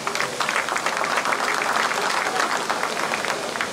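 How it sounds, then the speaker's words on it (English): A crowd at a junior livestock show applauds throughout, a dense, steady patter of many hands clapping at moderate volume. "Let's give these kids a round of applause."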